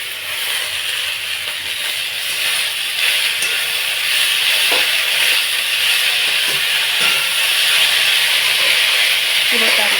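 Chapa note greens hit a hot frying pan already seasoned with salt and turmeric, a loud steady sizzle and hiss with occasional stirring clinks, and no one talking.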